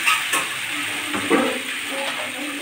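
Vegetables sizzling in a hot kadai as diced pumpkin is added and stirred, a close, steady frying hiss with soft clatters of pieces and spoon, no talk.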